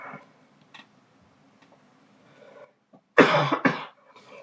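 A person coughs twice in quick succession, close and fairly loud, while working on a step-by-step ink drawing, after a quiet stretch with faint ticking and small rustles.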